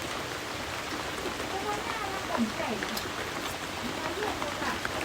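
Steady rain falls as an even, broad hiss, with scattered faint drips and soft background sounds beneath.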